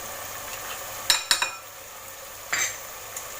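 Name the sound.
fish pieces being mixed into chermoula marinade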